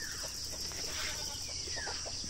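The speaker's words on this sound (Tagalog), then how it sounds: "ito yung bagong pisang manok" Clucking from a hen with her eight newly hatched chicks on a backyard farm in the Philippines, a few short soft clucks and faint peeps over a steady buzzing background, with no voices.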